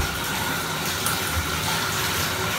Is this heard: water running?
yes